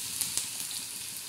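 Garlic and cumin sizzle in hot oil with curry leaves for a spiced cauliflower dish: a steady, close frying hiss with a couple of sharp pops early on.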